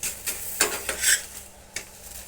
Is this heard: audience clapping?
no